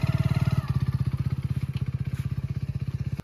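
A motorcycle engine idles with a fast, regular putter, easing slightly after a moment, then cuts off abruptly at the end.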